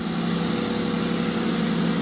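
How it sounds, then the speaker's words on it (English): A car engine idles steadily with a smooth, constant hum, close and moderately loud with no talking, during a check of the vehicle's electrical voltage with a multimeter. "Now I'm going to go ahead and start the engine"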